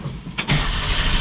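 A 1965 Ford Mustang restomod engine cranks briefly, then catches and fires, settling into a loud, steady, fast-running rumble close by.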